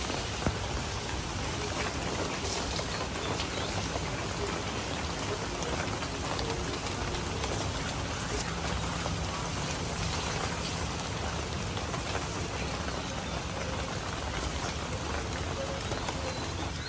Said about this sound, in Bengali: বৃষ্টি পড়তেছে, রোদ উঠছে।